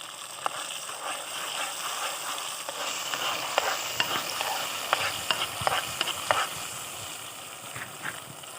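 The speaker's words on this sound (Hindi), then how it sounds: "अल्हम्दुलिल्लाह हमने प्याज़ों को अच्छी तरह से फ्राई किया है" Steady sizzling of onions frying with ginger garlic paste in a pan, with occasional clinks and scrapes of a spoon stirring, no voices.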